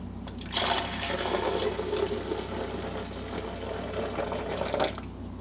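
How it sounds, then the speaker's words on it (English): Hot milk being poured while making café batido, a steady, close liquid stream that rushes and fills for several seconds above a low background hum. "Some more hot milk."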